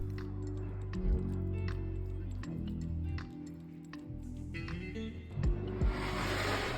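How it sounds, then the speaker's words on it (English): Egg mixture is poured over feta in a baking dish for a high-protein meal, giving soft wet squishing and dribbling sounds with a few light clinks, close and fairly quiet. "Lastly, I pour the egg mixture on top."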